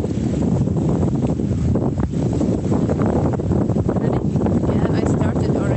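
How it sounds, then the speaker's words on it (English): Strong wind buffets the microphone on a shore where oysters are being opened, a steady, loud rushing roar that fills the whole stretch without letting up. "Very windy."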